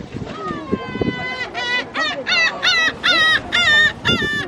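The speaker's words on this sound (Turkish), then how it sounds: "Şuraya bakar mısınız? Martılar gelmiş." Seagulls gather and call at a fish market, a series of loud, harsh, repeated squawking cries close by, mixed with people talking.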